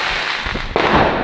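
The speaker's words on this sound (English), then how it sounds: "There's a firework going off." A firework goes off during bonfire night celebrations in Lewes, a sharp crackling burst with a sudden loud onset over a noisy outdoor background.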